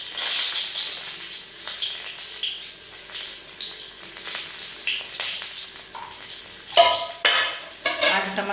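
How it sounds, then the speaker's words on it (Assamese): Mustard oil in a heated kadai: a steady sizzle with light utensil clinks and stirring, growing busier toward the end, no voices. "মই কেৰাহীখন গৰম কৰি লৈছোঁ। ইয়াতে মই মিঠাতেল দিম।"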